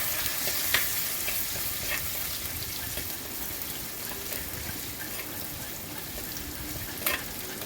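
Fenugreek, ginger, garlic, green chillies and curry leaves being sautéed for a mackerel curry give off a steady, close sizzle and crackle. Faint stirring scrapes cut through it now and then, and no one speaks.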